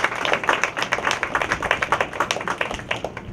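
A small crowd claps at the Maxcy Gregg Pool reopening ceremony, a quick run of distinct, moderately close hand claps that thins out toward the end.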